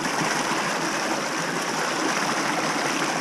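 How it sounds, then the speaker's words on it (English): Water diverted through a small channel lined with a tarp, running out behind bedrock at a dug hole: a steady, close rushing and gurgling flow with no pauses, and no one speaking. "it's just diverting all the water straight through the channel and straight out behind the bedrock here"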